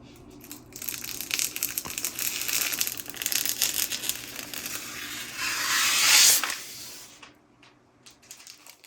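Protective peel film being stripped off the glass side panel of a PC case, a sustained crinkling, crackling rustle that builds to a loud peak near the end before fading, heard alone with no talk.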